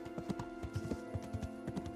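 Horse hooves clopping at a steady galloping rhythm in Kingdom Come: Deliverance, moderately close, repeated thuds over a constant hum of game ambience with no talk.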